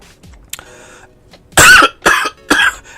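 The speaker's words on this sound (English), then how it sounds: "Everything I've recorded today has got me coughing in it" A person with a bad cold coughs three times, loud and close, each a short harsh burst, preceded by faint background noises and a bit of throat clearing.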